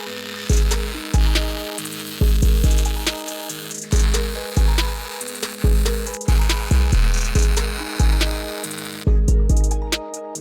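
A MIG welder using argon lays welds on a rear torque mount for an AWD Civic Type R build, crackling in a series of roughly one-second bursts separated by short pauses, loud and close.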